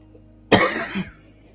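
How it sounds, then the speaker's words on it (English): One person lets out a single sharp, close cough that lasts about half a second in an otherwise quiet room. "Sorry about the coughing"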